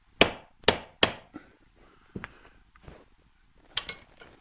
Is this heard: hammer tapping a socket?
yes